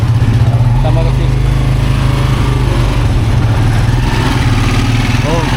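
A motorcycle engine runs steadily and loud nearby on a road in Palawan, a constant low drone throughout with faint voices in the background.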